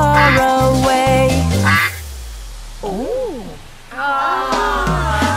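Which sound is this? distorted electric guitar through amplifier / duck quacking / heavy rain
duck quacking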